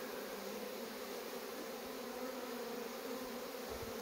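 Honeybees buzzing around a queen being caged with a few workers, a close, continuous drone with steady tones and a dense hiss of wingbeats, no voices present.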